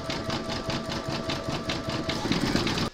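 An embroidery machine stitching satin stitch parrot feathers on an appliqué piece, a rapid, even mechanical chatter of needle strokes close by, stopping abruptly at the end.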